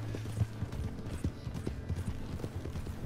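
Horse hooves clip-clopping in a steady trotting rhythm in Red Dead Redemption 2, close and moderately loud over a low background hum.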